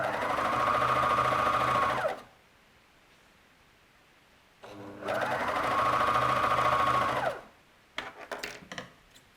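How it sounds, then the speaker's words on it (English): Heavy-duty industrial sewing machine driving a seam through 16 layers of heavy hemp denim, two loud sustained bursts of about two seconds each separated by a pause, then a few short clunks and rustles of handling, no speech. "it's 16 layers of sometimes heavy denim fabric stitched in one seam. So this is some serious machinery and pressure that makes it possible to do it."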